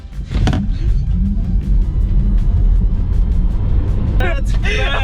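Tesla Model 3 Performance with dual motors pulling hard from a launch, a steady loud low rumble and whir of road and drivetrain noise held throughout, with brief voices and laughter breaking in near the start and end.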